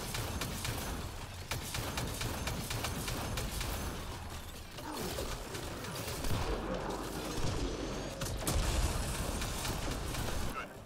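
Combat gunfire in the video game Mass Effect Andromeda, a dense, continuous barrage of shots and impacts with rumbling bursts, loud throughout with brief dips.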